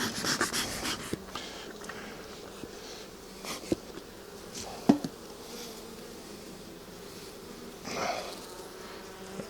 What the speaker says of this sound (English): I got a bee that's definitely ready to sting me